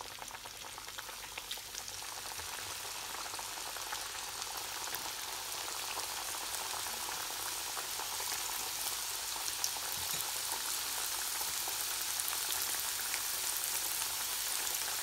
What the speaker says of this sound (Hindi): अब हम इनको फ्राई कर लेते हैं।